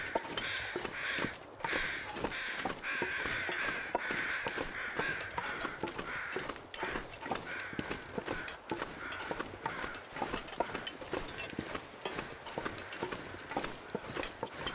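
Crows in the video game The Long Dark caw repeatedly outdoors, harsh calls recurring throughout over a rhythmic crunching of footsteps, moderately loud and close.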